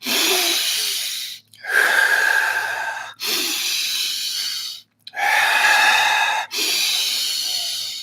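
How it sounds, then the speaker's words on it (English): Fast, deep breathing during a group breathwork session: loud, close inhales and exhales in long forceful strokes of about one and a half seconds each, separated by brief gaps, with no talking. "let's move into a faster, deep breathing and really create some powerful energy here"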